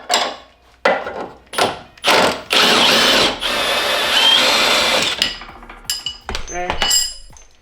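Power-tool bursts loosen the lower nut and bolt on a Nissan 350z front coilover, short loud whirs separated by pauses, then a longer sustained run, with metallic clinks near the end.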